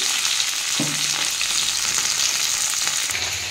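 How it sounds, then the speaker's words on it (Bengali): Okra (ladies finger) frying in a pan, a continuous loud sizzle with crackling oil and a brief stir partway through, no one speaking. "এদিকে ভেন্ডিটা ভাজা হচ্ছে বা ঢেঁড়সটা ভাজা হচ্ছে"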